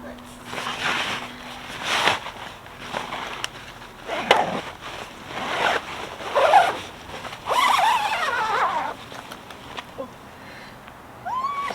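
A zipper on the cover of a 1979 camper pulled open in several drawn-out rasping strokes, interleaved with shuffling handling noise, a cat meowing a few times nearby and a person talking.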